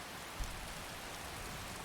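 Steady rain falls in a snowy Skyrim landscape, a soft, even hiss of drops with no breaks, fairly quiet and heard alone.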